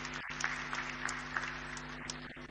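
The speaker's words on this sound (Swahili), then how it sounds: "Naomba tumshangilie kwa makofi mengi tafadhali." Applause from an audience at a business forum attended by the presidents of Tanzania and South Africa, steady and moderately distant, with a low electrical hum underneath and no speech.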